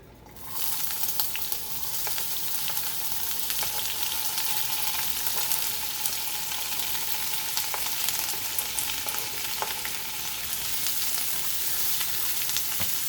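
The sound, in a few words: white onion and celery frying in olive oil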